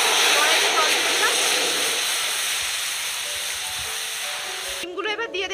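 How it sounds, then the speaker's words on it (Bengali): Water poured into a wok for boiling eggs and potatoes together, a loud, steady rushing splash that fades gradually, followed by a faint tonal hum near the end. "কড়াইতে জল দিয়ে দিলাম"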